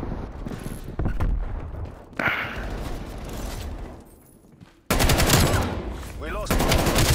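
Sniper and shotgun gunfire in a shooter video game crack out as loud repeated shots and bursts amid clattering game noise, with several abrupt loud sections.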